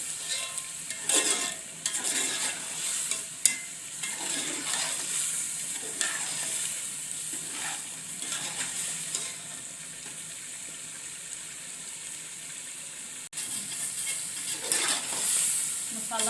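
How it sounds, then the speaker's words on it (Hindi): Spice masala frying in a pan for aloo chicken with chicken pieces, a steady close sizzle with repeated scraping stir strokes throughout, no talking. "मसाले को ज़रा सा भून लेंगे, 1-2 मिनट तक भूनेंगे इसको।"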